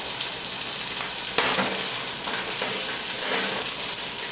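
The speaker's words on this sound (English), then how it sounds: "We're going to saute for a couple of minutes, add a little bit of salt" Asparagus sautés in a pan for risotto, a steady close sizzle with brief stirring scrapes and a sharper clatter near the middle, no voices.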